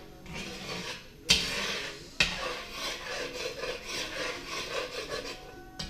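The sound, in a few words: stirring crawfish fettuccine pasta in a pot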